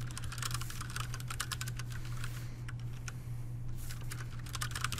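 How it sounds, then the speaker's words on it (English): Quick, close keystrokes clatter on a computer keyboard in a brief burst of typing, pausing for a moment before resuming, over a low steady hum. "so I'll just type that in manually"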